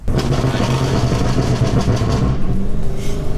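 An 820 hp BMW M5 Competition revs hard, its dense, loud engine roar crackling with exhaust pops throughout, heard up close with no talk.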